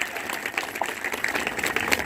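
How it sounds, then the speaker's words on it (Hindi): Crowd applause, a steady wash of many hands clapping at moderate volume, continuing throughout without pause. "दिल की गहराइयों से एक बार जोरदार तालियां हो जाएं"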